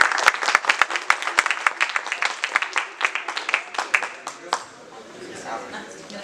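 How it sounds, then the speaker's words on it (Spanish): Conference audience at an acoustics expo session on lutherie claps to welcome the speakers, crisp close claps at first that thin out and fade, leaving a low murmur of voices. "por favor les pido un fuerte aplauso para darles la bienvenida"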